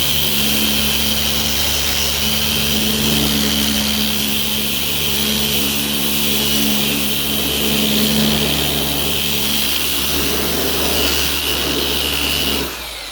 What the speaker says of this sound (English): Plug it in quick, and let's see how well this thing does at sanding.